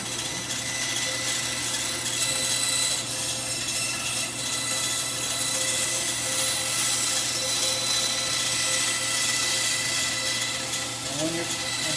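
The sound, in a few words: band saw cutting wood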